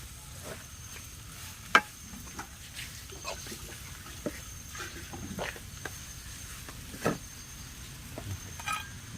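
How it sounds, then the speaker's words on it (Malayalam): Fish curry masala with turmeric sautés in a pan, a soft frying sizzle with scattered scrapes and clinks of stirring, fairly quiet and close. "മഞ്ഞപ്പൊടി എല്ലാം കൂടെ ഇട്ട് മിക്സ് ചെയ്യുകയാണ് ഇനി ഇതൊന്ന് മൂക്കണം"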